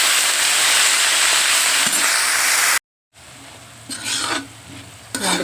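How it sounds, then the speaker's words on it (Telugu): Amaranth leaves fry loudly in hot oil with a steady, bright sizzle, followed after a short break by softer scraping and stirring in the pan. "ఇప్పుడు తోటకూర వేసేయచ్చు. బాగా వేగిపోయింది కదా, తోటకూర వేసేస్తున్నాను."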